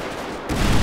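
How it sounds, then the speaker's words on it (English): Gunfire in a police-chase video game, a dense burst of loud shots breaking in halfway through after a steady background rumble. "Shots fired."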